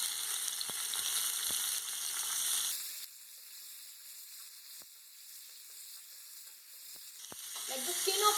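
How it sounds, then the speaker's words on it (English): Tomatoes fry in a little oil in a pan for a jackfruit dish, giving a continuous bright sizzle that eases down midway, with a few stirring clicks and scrapes. "Little bit of oil, and in this I'm going to add tomatoes."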